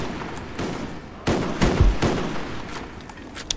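A handful of loud, sharp rifle reports from a WA-2000 in a video game wager match, spaced irregularly across a few seconds with ringing tails between them, with no talking over them.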